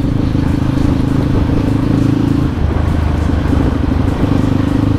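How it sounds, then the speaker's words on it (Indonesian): A bore-up Kawasaki KLX dirt bike engine runs steadily on light throttle, a loud, close, continuous motorcycle drone with a brief dip midway before it picks back up, no voices over it. "Ini gua pakai gas spontan, ini gua gas kecil banget ini."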